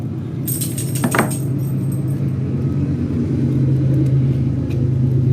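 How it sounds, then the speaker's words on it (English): A passing train produces a steady low rumble that stays loud throughout, with a brief higher metallic screech near the start and no talk over it. "Oh, there's the train."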